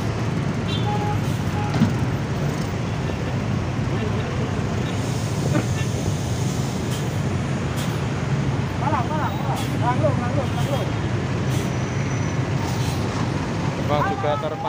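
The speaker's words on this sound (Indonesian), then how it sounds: "Dan ini ada juga bus Bagong Surabaya Tulungagung Trenggalek atau Jos Galek ya." Bagong buses on the Surabaya–Tulungagung–Trenggalek route pull out of the Purabaya (Bungurasih) bus terminal exit in the late afternoon, a steady, dense roar of engines and road traffic with faint voices in the background.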